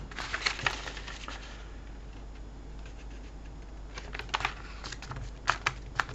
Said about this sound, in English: Now you need to fold it in half, that's that way.